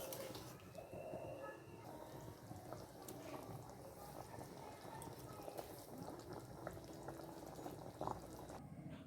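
Chitol fish curry bubbling as it simmers in a pan, a steady low bubbling and sizzling that runs throughout at close range and fairly quietly.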